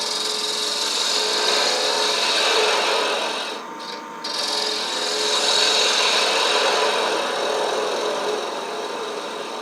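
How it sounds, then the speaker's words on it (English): A spindle gouge cuts into a wooden spin top spinning on a lathe, giving a steady, loud, close scraping hiss that dips briefly mid-way before continuing. "I'm going to use a spindle gouge to open this up a little bit, and then we'll square up those walls."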